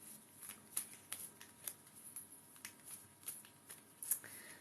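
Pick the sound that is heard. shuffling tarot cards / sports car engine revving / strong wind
shuffling tarot cards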